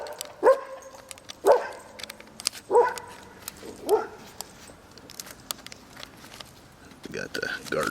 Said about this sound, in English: We got the guard dogs guarding something.